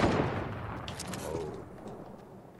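A rifle shot in Red Dead Redemption 2 cracks out at the start, then its boom rolls away in a long, fading echo, with a few faint sharp clicks over the decay.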